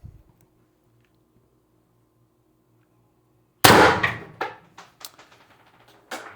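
Pistelle X-68 CO2 air pistol firing a single sharp, loud crack after silence, followed by a cluster of smaller clattering impacts and ticks, then another click.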